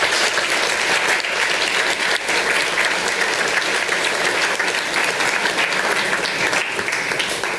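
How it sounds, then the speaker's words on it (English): An audience at a Layton City meeting gives sustained applause for a coach, dense, steady clapping from many hands filling the room without a break. "we owe a personal round of applause to the coach"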